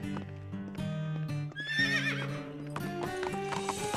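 Cartoon horse hooves clip-clop in quick rhythmic beats in the animated series Horseland, then the horse lets out a loud, bright whinny rising and wavering over the steps, the trotting continuing close and clear.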